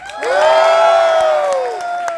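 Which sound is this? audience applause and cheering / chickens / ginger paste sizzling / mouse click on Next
audience applause and cheering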